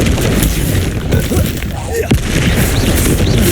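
The Expelliarmus disarming spell is cast in the video game Hogwarts Legacy: a loud, booming magical burst with a sharp crack midway, set within dense, rumbling combat sound effects.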